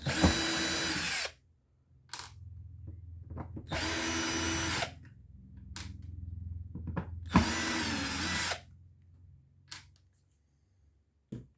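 A power drill with a star bit whirs in three bursts of about a second each while removing screws from an antenna inspection port cover, separated by pauses with small clicks and handling noises.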